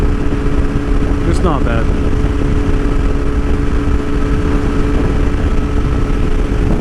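Motorcycle engine running steadily through a new aftermarket muffler whose pipe exits just outside the bottom fairing, a continuous close drone beneath a voice.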